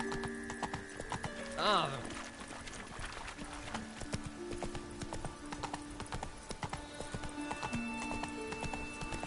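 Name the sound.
horse Roach trotting, from the video game The Witcher 3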